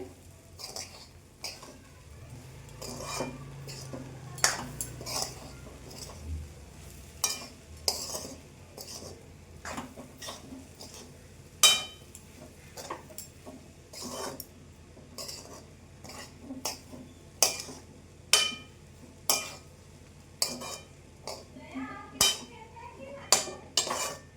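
A spoon stirs kachori filling in a pan, scraping and clinking against the metal in an irregular rhythm of sharp taps, with a soft sizzle underneath and no talking.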